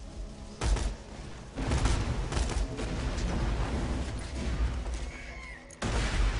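Gunfire from weapons in the video game Borderlands 2, heard as several bursts of rapid shots with brief gaps between them, fairly loud against a steady game background.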